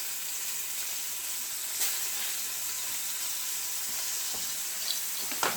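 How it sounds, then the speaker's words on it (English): Mushrooms frying in very hot olive oil in a frying pan give a steady, close sizzling hiss throughout, with a few small pops and spits near the end and no talking. "This is mushrooms, frying them. Pretty hot now, frying pan with some olive oil in it."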